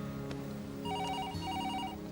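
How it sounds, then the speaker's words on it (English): A telephone rings indoors, its trilling electronic bell sounding in two short bursts over a steady low background hum, moderately loud and with no one speaking. "Is anyone going to answer the phone?"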